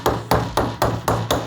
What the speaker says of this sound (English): there's a chisel